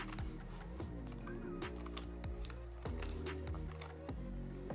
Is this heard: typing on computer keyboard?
yes